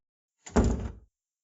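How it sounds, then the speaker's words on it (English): A door shuts once in a quiet indoor setting, a single soft, muffled thud lasting about half a second, close by with nothing else audible. "I nodded and entered, flinching a little, as the door shut behind me."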